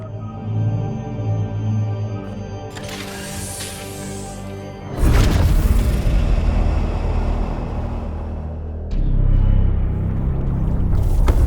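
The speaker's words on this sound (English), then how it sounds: "Unstable energies of the warp storm have caused an explosion inside the" A warp-storm explosion rips through a starship in the game Warhammer 40,000: Chaos Gate – Daemonhunters. A steady hum suddenly gives way to a loud, broad, rumbling blast that keeps roaring, then swells again near the end.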